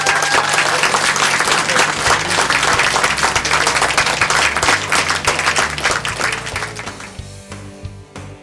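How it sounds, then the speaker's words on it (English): An audience claps for children at a contest, with loud, dense applause sustained for several seconds before thinning out and fading into scattered claps at the end. "Let's give these kids a round of applause."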